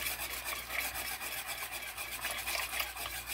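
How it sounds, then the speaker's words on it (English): A spoon stirs chocolate into a bread pudding mix with quick, regular scraping strokes against the bowl, a close, rhythmic rasping that repeats steadily with no voices. "Add our chocolate to our mix. Okay, you stirring in some. Make sure you constantly twist."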